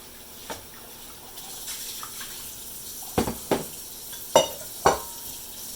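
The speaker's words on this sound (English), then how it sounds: "go ahead and drain the mussels. Drain the clams" Cooked mussels and clams being drained in a kitchen, a soft wash of pouring water punctuated by several sharp clattering knocks of shells and pot, with no speech.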